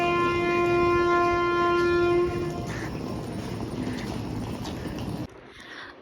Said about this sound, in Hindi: And now we are reached eight Udhampur railway station.